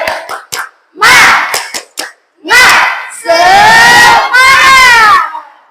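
Children in an Indonesian classroom shout a rhythmic clapping chant together, sharp hand claps in quick bursts followed by loud unison chanted voices, close and energetic.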